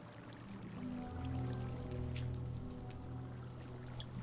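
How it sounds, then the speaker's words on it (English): Water from a waterfall in the Minecraft video game pours and streams down toward a mostly frozen lake, a soft steady gushing flow with low rumble and no talking. "So here we are, our water slide, our waterfall rather, which leads down to our mostly frozen lake"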